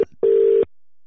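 A telephone ringing tone heard during a phone call: one steady, loud burst of a single tone lasting under half a second, alone, with silence before and after.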